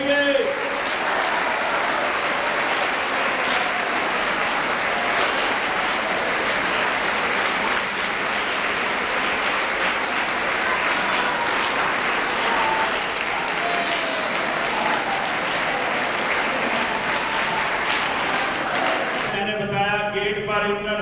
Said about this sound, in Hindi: उस्तादा कराम के लिए आधा मिनट तालियां होनी चाहिए